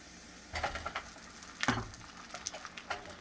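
Crepe batter hits a hot pan with a broad, close sizzle and crackle, swelling in a strong burst partway through and then settling into steady, patchy frying noise with no voice.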